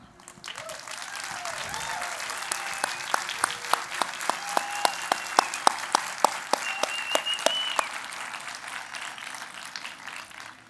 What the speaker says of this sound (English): could you please stand for a round of applause?